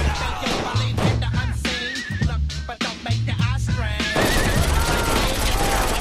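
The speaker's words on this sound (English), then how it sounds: "Shooting them only seems to make them multiply." Rapid gunfire bursts crackle through a chaotic firefight in the Saints Row IV video game, mixed with game music, shouting character voices and crashing effects, loud and dense throughout.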